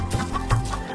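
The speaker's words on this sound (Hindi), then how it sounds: "उसके पास बहुत सारी मुर्गियां थीं, मुर्गा, और वो रोज 100 अंडे देती थीं।" Farm hens clucking beside a rooster, two or three short throaty clucks in about a second, close and clear over a low background murmur.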